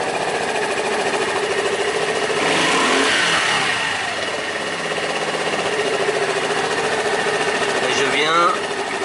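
A small carbureted engine idling after its idle mixture and speed screws are adjusted, a steady buzzing run close by with a slight rise in revs midway, and someone speaking over it.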